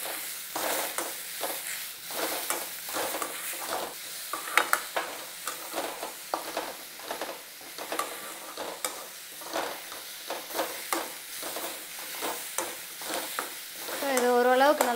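Onions and tomatoes sauté in a pan for a chettinad chicken masala, giving a soft continuous sizzle punctuated by frequent rhythmic scrapes and clinks of a spatula stirring close by.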